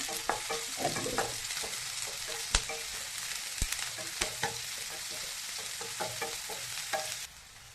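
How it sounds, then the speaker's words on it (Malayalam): About a cup of chopped onion fries in a pan for a cauliflower dish. A soft, continuous sizzle runs under repeated scraping and tapping of a stirring spoon, with no voices. "ഇതിലേക്ക് ഉള്ളി ഒരു ഉള്ളി മുഴുവനായി അരിഞ്ഞത് ഇട്ട് കൊടുക്കാം"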